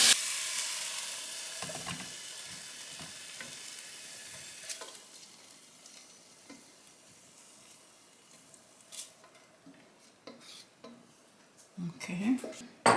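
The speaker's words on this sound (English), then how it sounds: "we're going to saute this just for a few seconds" Spring onions and garlic sautéing in a pan for Korean bibimbap: a brisk sizzle at first that fades to a low hiss, with repeated scrapes and clinks of a utensil against the pan, close and without talking.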